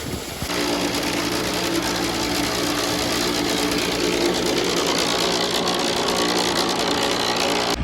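A small irrigation water pump engine runs steadily right after priming, a loud, continuous close-up drone with a buzzy mechanical rattle that holds unchanged for several seconds.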